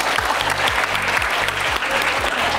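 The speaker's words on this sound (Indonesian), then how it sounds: "Tepuk tangan buat Rais." A crowd claps for Rais at a group work-visit gathering, loud, dense and sustained applause with a faint rhythmic thumping underneath throughout.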